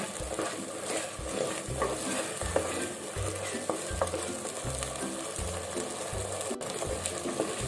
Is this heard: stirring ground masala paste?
yes